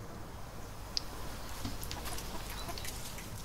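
Chickens in a coop give soft, scattered clucks, quiet and fairly distant over low background noise, with one brief sharp sound near the start.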